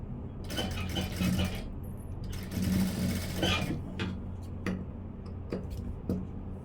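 A sewing machine stitches the front panel of a blouse in short runs of rapid mechanical ticking, with a pause partway and light clicks near the end, heard close and alone.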